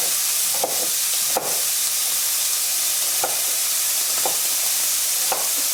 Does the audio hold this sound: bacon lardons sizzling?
yes